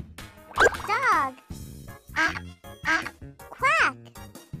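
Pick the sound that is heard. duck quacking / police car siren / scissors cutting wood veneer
duck quacking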